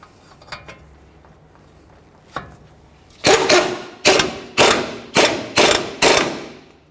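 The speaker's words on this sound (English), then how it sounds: "Let's go ahead and bottom out this nut." A ratchet wrench tightening the lower ball joint nut on a 2001-2005 Ford Explorer Sport Trac: a few faint clicks, then six loud, evenly spaced ratcheting bursts close by.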